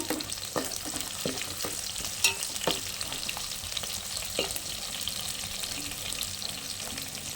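Onions frying in a pan for a dried anchovy and cowpea curry, with a steady sizzle and intermittent scrapes of a spoon stirring them, close and alone without speech.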